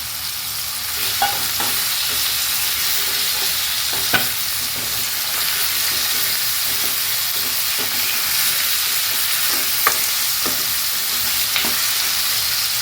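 Onions, tomato and potato frying in a pan on a gas stove for a side dish, a continuous close sizzle with occasional sharp pops and utensil taps over about thirteen seconds, no voices.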